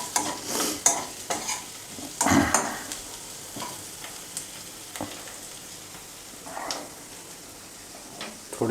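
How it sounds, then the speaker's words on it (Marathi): Garlic frying until crisp in a pan for a roasted-poha chivda, with soft sizzling and a few scraping stirs, one louder burst near the middle, fairly quiet and close. "लसूण असा क्रिस्पी भाजून घ्या."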